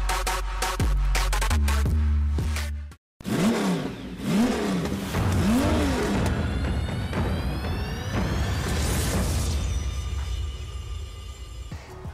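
A VW Scirocco with a twin-charged 1.4 TSI engine revs hard in repeated rising sweeps, then climbs through a long rising pull. It is loud and close, with a brief cutout partway through.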